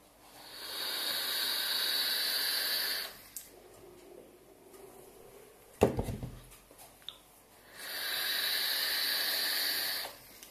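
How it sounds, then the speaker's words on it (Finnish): An electronic cigarette with an RTA atomizer on a CruOhm NoisyRed mod gives two long, steady airy hisses of vapor draws close by, separated by a quieter gap with a sharp click and faint rustling. "jolloin mä pääsen höyryttelemään"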